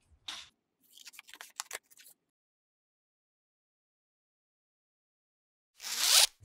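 Scissors cutting a paper sewing pattern along a line, a few short, crisp snips and rustles close by, then a pause of silence and a louder final cut.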